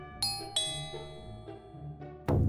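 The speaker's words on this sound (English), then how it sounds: "but one day, the doorbell rang." A doorbell chimes several times in a bright, ringing sequence of tones, followed by a sudden burst of louder noise at the end.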